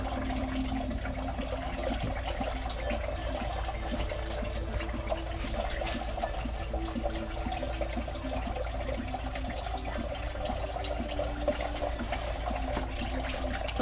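Coolant draining steadily out of a Ford Taurus with a coolant leak, a continuous close trickling and splashing of liquid with a low steady hum underneath, no talking.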